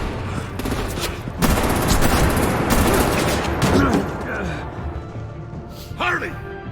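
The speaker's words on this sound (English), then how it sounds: "Oh, she got shot." Gunfire in the Batman: The Enemy Within game: dense bursts of shots and booms crowd the first four seconds, loud and close, with voices talking over the chaos and a sharp shout near the end.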